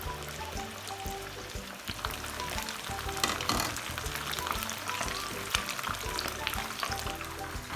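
Fish frying in a pan for a Lahori fish fry, a steady dense sizzle with crackling pops running throughout, close and fairly loud, with no talking.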